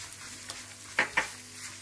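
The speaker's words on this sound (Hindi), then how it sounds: "थोड़ा सा आपने इसको भून लेना है, इसका कच्चापन आपने थोड़ा सा दूर कर देना है।" Spices with crushed red chili, crushed dried pomegranate seed and salt frying in a pan for samosa filling: a faint, soft sizzle with two quick stirring scrapes close together.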